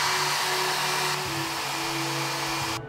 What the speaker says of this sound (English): A hack to remove stickers from a surface is to use a blow dryer.